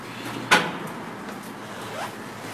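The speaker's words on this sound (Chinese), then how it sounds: "好，借还完以后呢，我同样我把门关闭。" Door of an RFID smart library bookshelf at a 24-hour self-service kiosk shutting with one crisp close-up click, then soft rustling in a quiet room.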